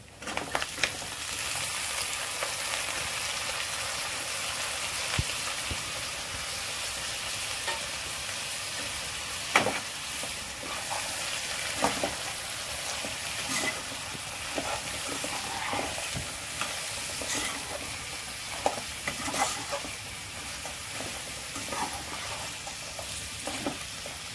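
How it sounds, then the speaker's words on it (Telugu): Radish and radish leaves fry in a pan with dried prawns and onions, a continuous close sizzle broken by repeated scraping and clattering stirs over about twenty-four seconds. "కొంచెం ముల్లంగి పచ్చివాసన పోయేదాకా కూడా వేపండి."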